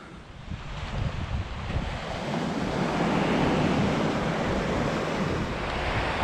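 Continuous roar of surf breaking on a secluded beach in Little Harbour, Abacos, with wind buffeting the microphone, loud and steady throughout.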